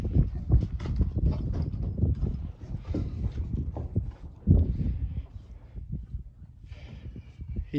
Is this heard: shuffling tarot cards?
no